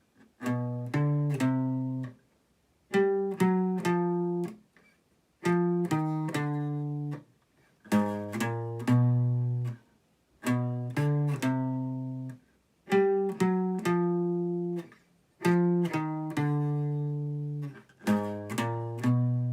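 Guitar chords strummed in short, rhythmic groups of three, repeated in bursts with brief pauses between each set, close and clear.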